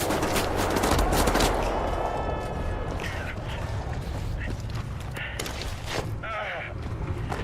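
Covering gunfire rattles through a battle on a wall in the video game Wolfenstein: The New Order: loud, dense bursts of automatic fire with shouted talk and other combat noise over them, continuing the whole time.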